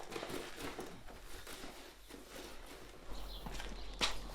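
Horses walking in a stable at evening feeding time, their hooves giving faint, irregular clip-clops under a steady low background hum.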